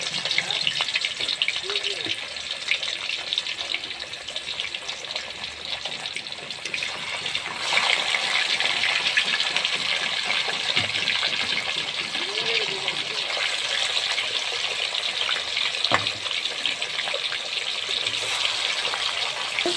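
Pieces of rui fish fry in hot oil, making a constant broad sizzle that is close and steady for the whole stretch, with occasional soft clinks.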